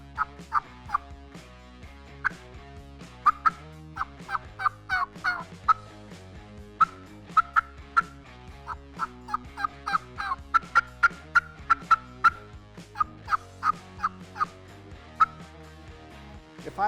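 A Tongue Cutter Plus turkey mouth call, a cutter-style diaphragm call with a small V slice on the side, makes a long, rhythmic series of sharp yelps and cutts. The notes are close and crisp, with no talking.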